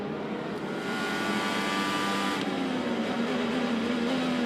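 An IndyCar race car with a stuck throttle roars steadily, a loud droning engine with a slowly shifting tone, heard at broadcast distance without talk.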